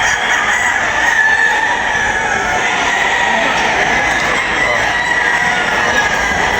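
Sweater gamefowl rooster crowing at a game farm expo, loud repeated crowing and clucking amid a busy crowd with people talking throughout.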